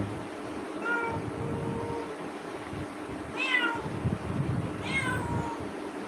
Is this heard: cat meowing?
yes